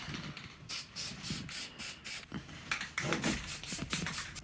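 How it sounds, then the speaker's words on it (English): Short bursts of aerosol spray paint hiss on and off in a quick uneven rhythm, close by, with faint handling noises between them. "we'll see if I can actually spray paint on them without it popping again."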